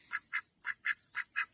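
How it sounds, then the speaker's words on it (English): Six short, evenly spaced, lower-pitched quacks from female ducks, crisp and fairly close, with quiet gaps between each call. "quacks are the ducks."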